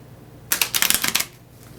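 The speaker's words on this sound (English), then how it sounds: "So while I'm shuffling the cards, I'll put the game board up" Playing cards are shuffled close up in one quick riffle, a burst of crisp rapid flutters lasting under a second between quiet stretches.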